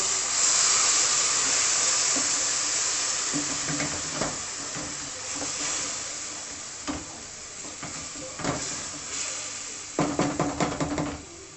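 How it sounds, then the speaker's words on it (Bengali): Water poured into a hot pan of fried spices, setting off a steady loud sizzle and hiss with stirring clatter, bursts of spattering near the end. "এবার এর মধ্যে একটু জল অ্যাড করছি"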